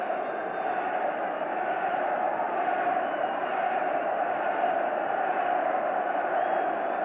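Rugby crowd at the 1985 Wales v Fiji match roaring as the captain runs a penalty, a dense, steady wall of cheering noise from a large stadium audience throughout.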